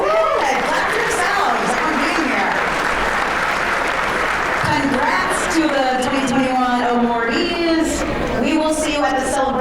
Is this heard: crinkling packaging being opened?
no